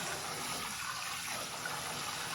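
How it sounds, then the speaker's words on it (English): Tap water runs steadily into a bowl while strawberries are being washed, a constant close-up gushing hiss with no pauses and no talk. "And I am almost there with the water."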